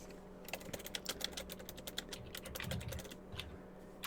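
Quick irregular clicking of typing on a computer keyboard, close and fairly quiet, in bursts of keystrokes with short pauses and a low steady hum underneath.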